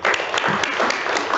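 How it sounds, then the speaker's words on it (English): Council members applaud during a city council meeting, a brief, dense burst of clapping that stays steady and even throughout. "Round of applause, members."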